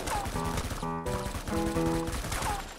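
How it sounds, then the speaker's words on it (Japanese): Rapid gunfire bursts from the battle royale video game Knives Out, dense overlapping shots over game music and tonal effects, loud and continuous throughout. "銃声の数えぐい"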